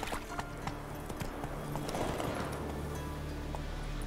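Roach the horse gallops in The Witcher 3, steady hoofbeats thudding in a fast rhythm under a constant low rumble of ambient game sound, moderately close.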